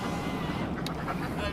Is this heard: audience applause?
no